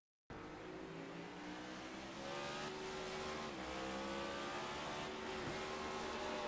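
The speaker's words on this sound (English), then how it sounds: "Listen to the engine." A stock car racing engine at Bristol drones steadily from close range, its pitch sliding down at moments as it downshifts, a continuous loud mechanical roar with no voices.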